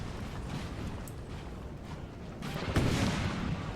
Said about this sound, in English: the guns just keep firing over there